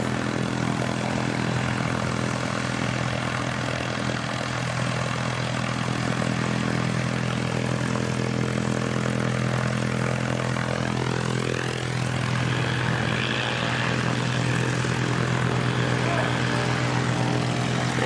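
A Cessna 172 light propeller aircraft at Christchurch Airport, New Zealand, drones steadily with a constant engine hum throughout, rising slightly in the latter half.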